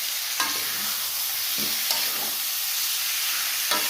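Beef frying in a pan for kerecek, a continuous sizzle broken by a few sharp spoon clanks and scrapes as it is stirred, close and alone.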